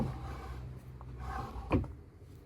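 A fancy drawer in a Ford Connect van build slides shut with one short, fairly loud knock near the end, following softer handling noise close by.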